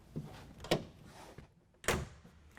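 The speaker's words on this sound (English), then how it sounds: "Now to tighten the clamps to the deck rails, we're going to first close the tailgate." Tailgate of a 2016 Toyota Tacoma pickup being swung shut: a few light clunks and rattles building to one solid, close latching thud near the end.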